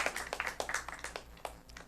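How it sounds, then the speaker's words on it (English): Audience applause at an oratory contest, a burst of separate claps that fades and thins toward the end, moderately close and with no talk over it. "A round of applause again for him"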